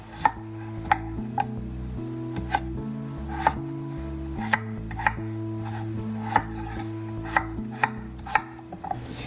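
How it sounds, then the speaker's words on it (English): A knife chops an onion on a cutting board for old-fashioned potato soup, with a dozen or so crisp, evenly spaced thuds over a low steady hum and no talking. "And we're going to put an onion in here too and get that chopped up as well."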